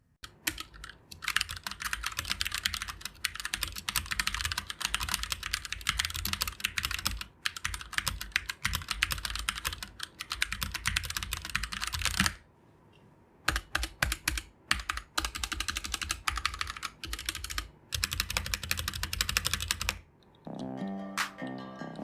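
Rapid typing on a Glorious GMMK TKL modular mechanical keyboard fitted with O-rings, dense clacking keystrokes in fast bursts with a short pause midway, close and fairly quiet, ending in a brief different sound.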